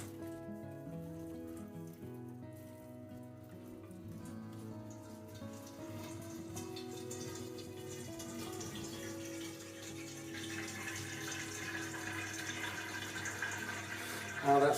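Ruby ale wort recirculating through the grain bed during brewing, a steady trickling, splashing flow of liquid that runs continuously at moderate level and swells slightly toward the end, with a faint background hum.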